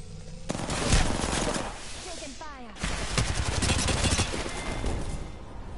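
Rapid gunfire crackles in a chaotic Apex Legends match, bursts dense and loud over the first seconds, then mixing with scattered shots as players talk over the action.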